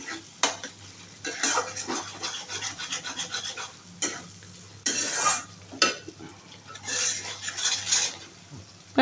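Tangra fish and cabbage curry with coriander, cumin and garam masala being stirred in a pan: repeated scraping strokes of a metal spoon over a soft sizzle, close and fairly loud, no talk.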